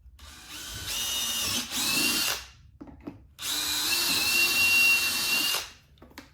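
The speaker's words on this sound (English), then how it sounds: "And give that a quick drill through." A power drill whines in two sustained bursts, close and loud, drilling through a mounting bracket for an audio kit on a 2022-or-later BMW motorcycle, with a brief pause and light clicks between them.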